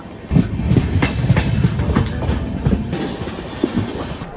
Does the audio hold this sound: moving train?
yes